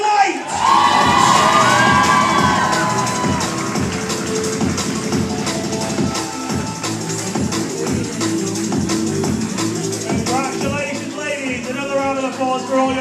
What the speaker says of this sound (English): Applause for all your athletes, please.